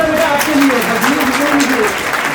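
Applause from an audience at a girls' government senior secondary school results ceremony in Firozpur Jhirka, steady clapping throughout under a voice speaking over a loudspeaker.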